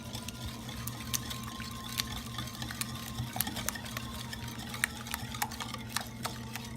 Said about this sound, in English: Let's just mix it up real well.